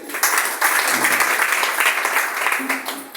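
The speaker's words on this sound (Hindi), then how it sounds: "जोरदार ताली होनी चाहिए" An audience at a seminar claps for the speaker's wife as she is introduced, a short burst of dense applause at moderate loudness, with faint voices mixed in.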